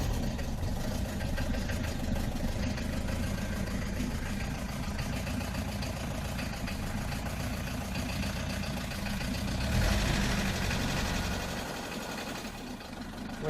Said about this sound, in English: With this one you can let the engine run slower. As you can hear.